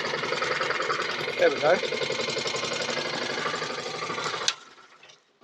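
A Briggs and Stratton 450E lawnmower engine runs with a fast, steady close putter, someone speaks briefly over it, and then it suddenly cuts out near the end.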